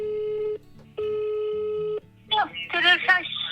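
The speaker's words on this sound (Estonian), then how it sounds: "Ma helistangi nüüd praegu siis oma vanaemale" An outgoing phone call gives two long, steady ringback tones separated by a short gap, then a voice starts talking over the line.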